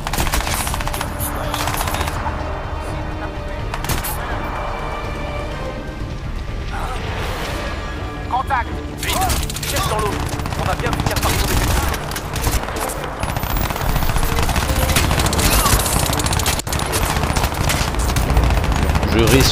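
Sustained enemy machine gun fire in the Crysis 2 shooter game, dense rattling bursts continuing throughout with loud gunshots and mechanical clatter layered over game sound effects.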